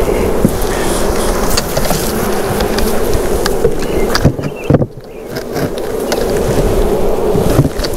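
Dense, loud swarm buzzing of packaged honeybees being shaken into a hive, a continuous drone with brief thumps and a momentary dip midway.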